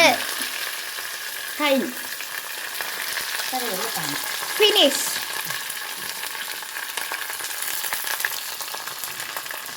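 Curry leaves and dried red chillies fry in hot oil over a gas flame, giving a steady, close sizzle with occasional crackles throughout, while a voice speaks briefly.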